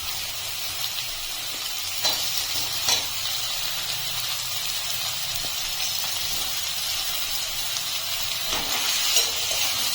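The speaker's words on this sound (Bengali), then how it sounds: "এখন আমি এর ভিতরে আলু সিদ্ধ করে রেখেছি, হাত দিয়ে একটু এভাবে নেড়ে দিয়ে দিচ্ছি।" Boiled potatoes being stirred by hand with fried spices and chilli powder in a pan for aloo patties, a steady soft sizzle and hiss with a few light scraping knocks throughout.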